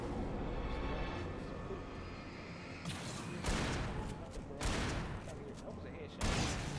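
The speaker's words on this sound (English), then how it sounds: "Shotgun real quick and do him in." Shotgun blasts in the video game Alan Wake, three loud broadband booms spaced about a second and a half apart against a noisy game background.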